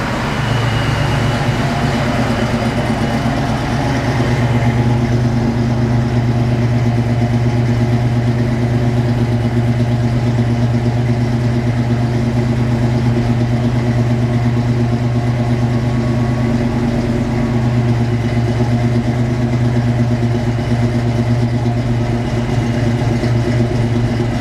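Foxbody Mustang engine fitted with a Holley fuel system idles steadily, a loud, continuous low rumble with a constant drone throughout and no talking.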